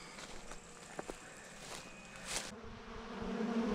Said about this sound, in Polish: dzisiaj normalnie pszczoły szaleją na nawłoci